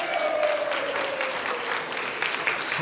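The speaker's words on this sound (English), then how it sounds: "Can I have a round of applause for all the staff and everybody else?" A room of diners gives a steady, dense round of applause for the staff, sustained clapping at moderate distance without pause.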